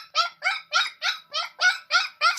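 A Chow Chow dog barks eight times in a quick, even rhythm, each bark short and sharp, close and fairly loud with silence between them.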